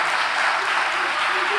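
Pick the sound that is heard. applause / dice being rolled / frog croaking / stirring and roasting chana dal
applause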